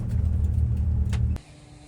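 A Daihatsu Mira's small engine hums steadily at close range, then cuts off abruptly as the car pulls up and stops.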